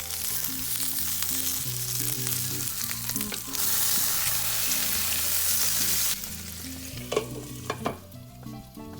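Japanese-style hamburg steak sizzles in a covered frying pan, a steady close crackle that swells louder midway, then eases with a few clinks and pops, under soft background music.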